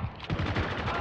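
Short, close burst of rapid gunfire in Spec Ops The Line team deathmatch, several quick shots in a tight rhythmic volley lasting about a second, no talking.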